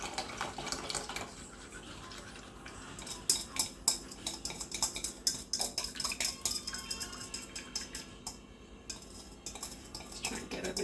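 A whisk scrapes and taps against a bowl, working a sweet dessert mixture in irregular clinks, scrapes and soft splashy stirring, fairly quiet and close, with no voices.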